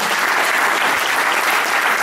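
A church audience gives a loud, sustained round of applause, a thick continuous roar of many hands clapping at once with no pauses.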